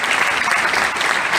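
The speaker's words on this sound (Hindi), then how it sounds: "जोरदार ताली बजाते हैं।" Audience applause at a celebration event, dense and loud clapping filling the whole short stretch, close and continuous without voices.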